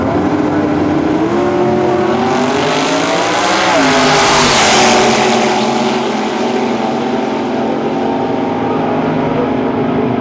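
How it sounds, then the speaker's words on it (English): Front-engine dragster on a Woody Gilmore chassis roars past at a drag race meet, a loud sustained engine howl swelling as it nears and fading as it pulls away. "And Woody Gilmore chassis, front engine Dragster."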